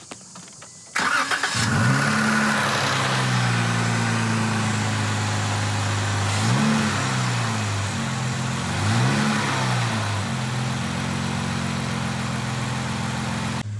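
A 2016 Jeep Wrangler Unlimited starts after a moment of quiet, catching with a crank and rev, then settles into a steady idle. It blips up in revs twice, close and loud, and no one talks.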